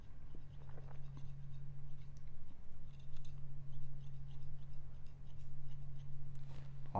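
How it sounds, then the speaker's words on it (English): Scissors trimming and thinning material on an offshore baitfish fishing fly, faint quiet snips scattered over a low steady hum, close and soft with no speech. "I'm not cutting it fully, but I'm working my scissors up."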